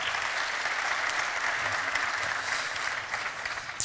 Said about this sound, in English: Give him a round of applause for doing that for us.